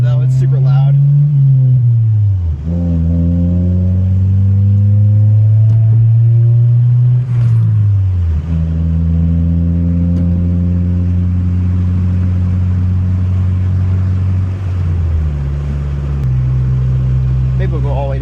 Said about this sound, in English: I'm not in love with the exhaust note though.